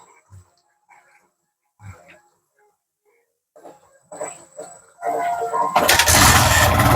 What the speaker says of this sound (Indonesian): Kita coba untuk menghidupkan, bisa enggak? Enggak kuat. Kita engkol.